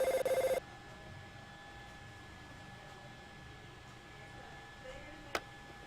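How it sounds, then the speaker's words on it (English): In the video game Ben Jordan 5, a telephone rings in a brief electronic burst at the start, then gives way to a quiet humming room tone. "also getting a phone call with a split screen thing apparently"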